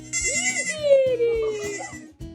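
A goat bleating loudly and close, a wavering cry of a second or two, with speech around it.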